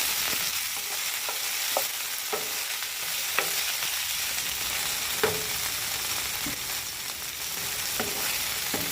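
Okra and tomatoes frying with fresh garlic, salt and pepper in a home kitchen: a steady, close broadband sizzle lasts throughout, with scattered sharp clicks of a utensil against the pan and no talking.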